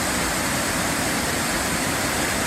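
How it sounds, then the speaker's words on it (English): Blackwater Falls, a decent-sized waterfall heard from roughly 50 feet away, gives a steady, dense rushing roar that fills the whole clip without pause and with no voices. "Decent sized waterfall, and again, be a lot more water flow after a good amount of rain"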